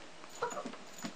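A dog gives a few soft, high whimpering whines, faint and close, with short pauses between them and no talk over it.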